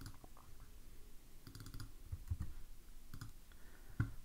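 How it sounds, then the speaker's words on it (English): Computer mouse clicking at a desk while using a website to add company details, a few sharp clicks scattered over light background noise with no talking. "I don't know why I keep clicking that."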